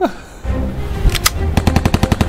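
Rapid automatic gunfire from a battle royale video game, a loud burst of evenly spaced shots after a couple of single cracks, with no talking.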